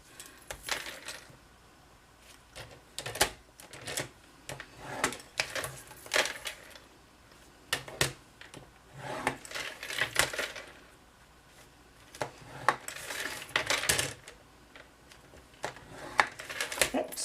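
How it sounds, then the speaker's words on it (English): A paper trimmer scores a piece of designer paper with repeated short, close scraping strokes and light clicks, separated by brief pauses. "Okay, so let's grab our paper trimmer. Okay, so the 5 by 8 piece, you're going to score all four sides at 1 1/2."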